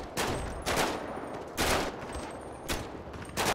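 Gunfire in a GTA 5 zombie apocalypse mod, with several rapid bursts of automatic shots at a moderate distance and steady background noise between them.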